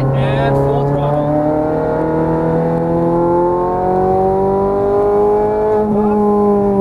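A Ferrari 430 Scuderia at full throttle out of a corner on a race track: a loud, close, continuous engine note climbing steadily in pitch, with a brief shift near the end.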